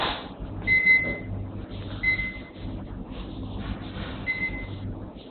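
An Elica microwave oven beeps as its cooking time is set: three short high electronic beeps spaced about two seconds apart over a low hum, with no talking.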